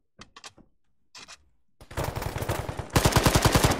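Automatic rifle fire in an Arma 3 firefight: a few short separated bursts, then sustained rapid loud volleys that grow denser and closer toward the end.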